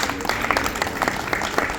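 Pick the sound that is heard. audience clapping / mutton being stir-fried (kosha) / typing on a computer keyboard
audience clapping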